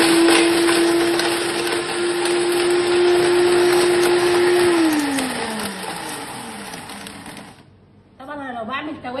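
A Zada blender grinding at full speed: a loud, steady motor whine with a harsh broadband whir, which then slows, drops in pitch and fades before the machine stops.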